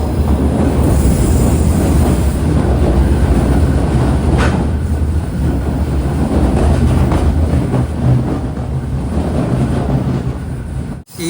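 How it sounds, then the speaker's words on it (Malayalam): Heard from on board, the Malaysian jungle train on the Johor Bahru to Tumpat line rumbles loudly and continuously with wheel clatter and faint squeals as it enters a tunnel. "ഒരു ടണലിലേക്ക് ഇതാ കയറുകയാണ്."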